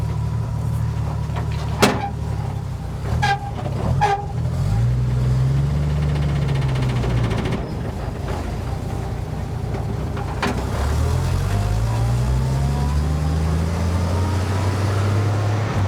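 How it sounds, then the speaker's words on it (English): A restored vintage truck with a new exhaust pipe and oversized tires rumbles along on a short drive, its engine note rising and falling through two long gear pulls, with occasional clunks and rattles from the cab. "taking the truck that my family has decided to call Mater out for a little ride"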